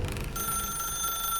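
Office telephone ringing in The Stanley Parable video game, a continuous electronic bell tone sounding clearly and alone, fairly loud.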